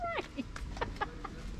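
Guinea fowl calling outdoors in a quick series of about six sharp, harsh squawks, fairly close and moderately loud over a light background.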